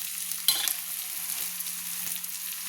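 Garlic paste, turmeric and spices fry and get stirred in a pan for a cauliflower chicken curry: a steady close hiss of sizzling oil, with occasional scraping knocks of the spoon and no speech.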